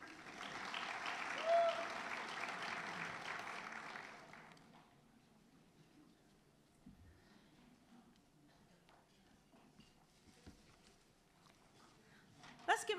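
An audience at a teacher of the year awards ceremony applauds for about four seconds, then the clapping stops abruptly, leaving quiet room noise, faint shuffling and brief sounds.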